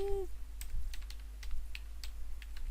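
Rapid typing on a computer keyboard, a brisk run of light clicky keystrokes close to the microphone over a low steady hum.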